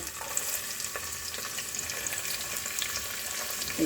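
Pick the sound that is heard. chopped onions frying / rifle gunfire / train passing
chopped onions frying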